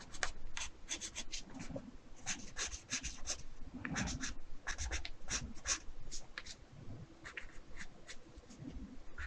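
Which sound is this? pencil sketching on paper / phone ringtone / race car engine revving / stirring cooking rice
pencil sketching on paper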